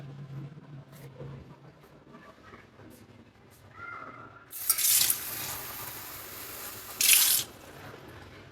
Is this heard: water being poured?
yes